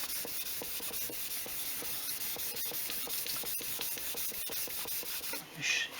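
A 3000-grit pad sands the finish of a Les Paul guitar body, making a soft, steady, rhythmic rubbing hiss with regular strokes, close and quiet, with no talk.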